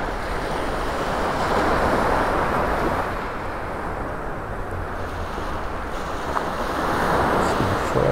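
Surf washes steadily onto a beach in North Naples, Florida, a continuous broad roar with gentle swells and some wind across the microphone, with no voices.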